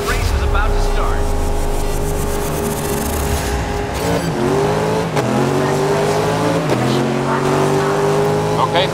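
Race cars in the Xbox One racing game Grid rev loudly on the starting grid, engines droning and rising in pitch together, with a few sharp gear-change drops partway through, steady and close throughout.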